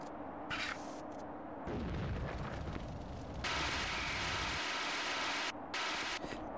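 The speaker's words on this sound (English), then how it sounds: "Oops, that's how you shoot." Gunfire in The Thing video game: loud, rumbling bursts of blasting that run in long sustained stretches with brief gaps between them, close and harsh, with no talking.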